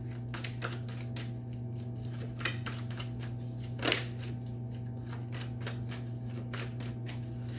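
Tarot cards shuffled by hand during a reading, a run of quick papery riffles and soft flicks repeating steadily over a constant low hum, close and moderately quiet.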